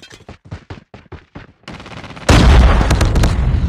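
A grenade explodes in a Call of Duty Mobile multiplayer match, after a run of rapid gunshots from the FFAR rifle. The detonation is a loud, sustained boom that swamps everything.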